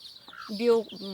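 Chicks peep and cluck while being fed grated egg with dill, a short, close burst of chirping calls.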